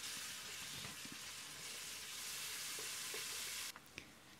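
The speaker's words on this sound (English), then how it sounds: "add all the achari or pickling spices into the pot and fry for a minute" Achari pickling spices frying in a pot with ginger garlic paste and garlic cloves, a steady dense sizzle with faint stirring scrapes, ending in a few sharper knocks near the close.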